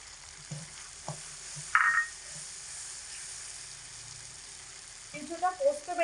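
Ground cashew paste dropped into masala frying in a pan gives a soft, steady sizzle with a few clinks and scraping stirs, then a louder bubbling spurt near the end.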